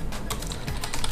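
Rapid keystrokes on a computer keyboard while entering a Linux terminal command during an Ubuntu Server setup, close and fairly loud, clattering steadily for about a second with no voices.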